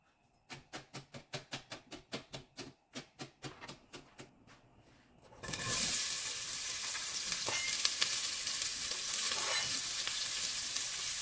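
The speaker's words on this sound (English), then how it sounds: "saute it with some olive oil" Diced onion hits hot olive oil in a pan for spaghetti sauce, preceded by a run of rapid rhythmic knife chops, then a loud steady sizzle that fills the rest with faint stirring.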